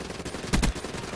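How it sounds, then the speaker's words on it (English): A machine gun fires in a video game, two quick bursts of shots standing out over low background noise, close and fairly loud. "Just testing the gun works."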